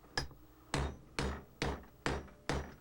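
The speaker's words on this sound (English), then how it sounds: "I punch the holes out" A hand punch is struck to cut holes in a bagpipe bag, six sharp knocks at a steady, unhurried pace, each one loud and close with a short decay and no talking.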